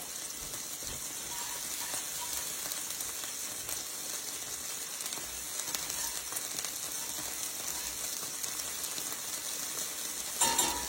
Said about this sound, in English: On my stovetop back here, I'm just grilling up some onions and some mushrooms